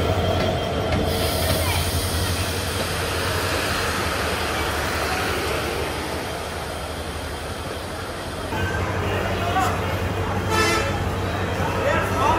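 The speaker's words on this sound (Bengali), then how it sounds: "চলে আসলো আমাদের করতোয়া এক্সপ্রেস হুন্ডাই রুটিন ইঞ্জিনের সাথে" Korotoa Express train pulling in with a Hyundai locomotive, a steady rumble of rolling wagons with a high whistle-like tone and wheel squeal, loud and close, with a voice talking over it.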